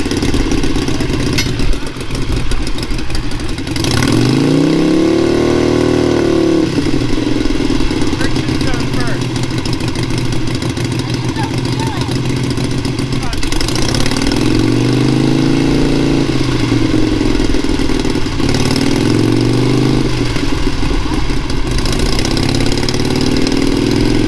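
A motorcycle engine idles and rises in pitch as the clutch is eased out and the throttle is rolled on, with several swelling revs heard under continuous talk.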